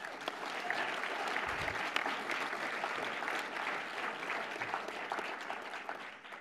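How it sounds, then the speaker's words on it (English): Applause from an audience at an Indigenous environmental advocacy event, steady and dense for several seconds, with scattered claps standing out near and far. "Round of applause for Cedar."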